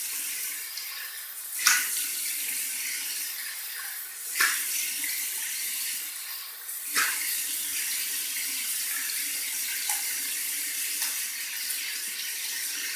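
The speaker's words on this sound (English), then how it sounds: "So we're going to do a warm water rinse." Warm water runs steadily from a tap during a traditional wet shave, a continuous splashing hiss broken by a few brief louder splashes, close and alone with no talking.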